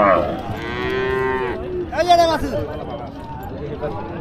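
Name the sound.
calf mooing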